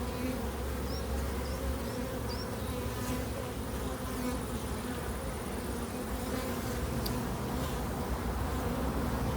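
Honey bees swarm around a brood frame lifted from a hive, making a dense, steady buzz that holds at an even level throughout with no voices.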